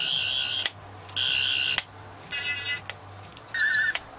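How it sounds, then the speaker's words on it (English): A Doctor Who sonic screwdriver toy gives several short bursts of high warbling electronic tones, each with a different pattern and separated by clicks and brief pauses, heard alone and up close. "it makes a different Sonic sound with every time you do this"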